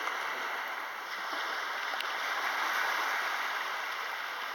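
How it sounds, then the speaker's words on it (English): Running water flows steadily, a broad, even rushing wash like a stream or water against a boat, moderately close and unbroken, with no voices over it. "there's only the person inside you and water sound."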